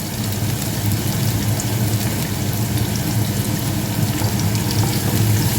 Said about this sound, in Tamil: ஒரு நிமிஷம் போல் வதங்க விடுவோம். இப்போ மீடியம் ஹீட்டில் விடுவோம்.